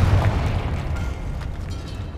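A Confringo blasting spell goes off in Hogwarts Legacy, a loud booming burst at the start that fades into a rumbling tail, close and alone.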